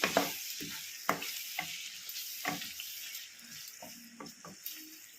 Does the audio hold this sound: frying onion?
yes